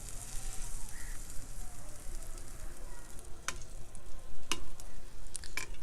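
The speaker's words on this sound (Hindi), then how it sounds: "और ये जो हमारे पास गर्मा गर्म शीरा है इसके अंदर इनको डिप कर देंगे" Fried gulab jamun dipped into hot sugar syrup over a low flame, giving a steady soft sizzle and bubbling with a few light clinks, no voices.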